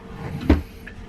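A single short wooden knock as a cabin drawer on the Carnival Freedom cruise ship is opened, close and brief, over quiet room noise.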